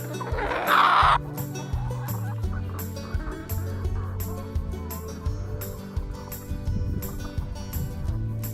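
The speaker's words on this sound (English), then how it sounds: "Let's go down and talk to some of the chickens" Hens cluck and squawk in a Swedish chicken house at a farm in Uddeholm, Värmland, a dense flock chattering continuously close by, with one louder burst of squawking near the start.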